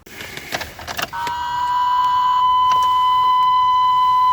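A van that fails to start: a few clicks and clunks are followed by a loud, steady electronic warning tone that holds on without any engine catching.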